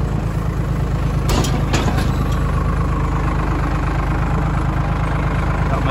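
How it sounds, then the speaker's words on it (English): A tractor engine idles steadily and loudly at close range, a continuous low rumble with a brief rattle partway through. "Got my dad on the tractor."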